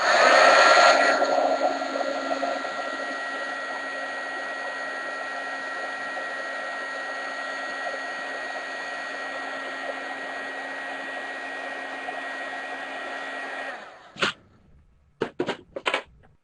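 A heat gun blows steadily at close range while heating a plastic water bottle on a tile surface. It gives a loud continuous whirring hiss for about fourteen seconds, then switches off, followed by a few brief clicks and taps.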